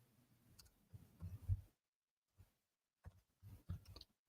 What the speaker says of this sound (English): Todd is typing with chopsticks.